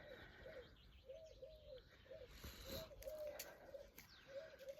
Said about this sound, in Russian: Горлица поет, радует